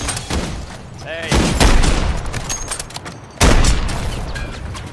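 Gunfire in a snipers-versus-runners video game match: bursts of gunshots and booming impacts with scattered volleys, one loud sharp blast near the end, with faint voices in the mix.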